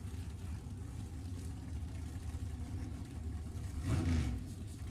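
Chevy-powered drag cars, a 1963 Corvette with a 632 cubic inch engine and another with a 604, idle and rev at a raceway, a distant, faint engine rumble with a louder surge near the end.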